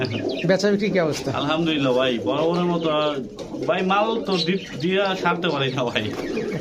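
Pigeons of fancy breeds such as Budapest, Teddy, Kamargar and Golla cooing at a busy pigeon market, a steady murmur of coos under near, continuous voices of people talking.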